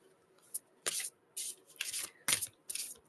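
A deck of cards is shuffled close by in quick, soft riffling bursts, about six short swishes separated by brief pauses, with no talk.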